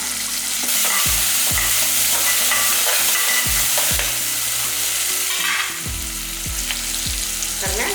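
Onion and a single tomato fry in a pan as the base for drumstick soup, a steady close sizzle broken by repeated scraping and clanking stirs of a utensil against the pan.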